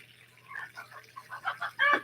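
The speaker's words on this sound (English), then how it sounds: "I don't know if you could hear the difference in the crow. It's got a little higher pitched, a little softer of a crow." A young rooster crows in a higher-pitched, softer voice, a short series of clucking syllables building to a louder final note, fairly close with a steady low hum underneath.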